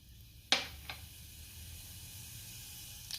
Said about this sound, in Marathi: मोहरी जिरे चांगले तडतडले,